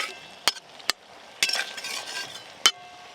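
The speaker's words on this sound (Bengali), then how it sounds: "এবার আমি জল দেব।" Sharp metal clinks of a utensil against a pan, then a short hiss of sizzling as water is added to fried hilsa fish heads cooking for an eggplant shukto, with a final clink; close and fairly quiet.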